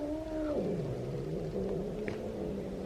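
A cat gives a low, drawn-out growling yowl near a gate, moaning and wavering in pitch, fairly close and with no talking over it.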